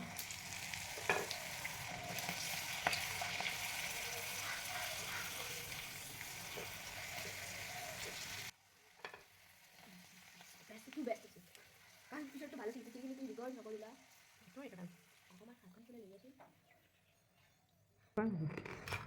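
Jeng Pitha, an Assamese snack, sizzling as it fries in hot oil, a steady crackling hiss that quietens midway, followed by softer bubbling and scraping while someone talks.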